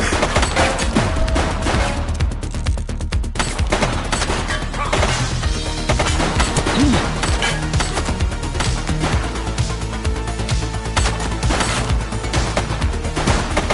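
Gunfire in the police video game The Precinct on PS5, dense loud bursts of shots and impacts layered over game audio and music for the whole stretch, with no talking.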